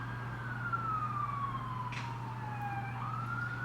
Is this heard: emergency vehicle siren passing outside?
yes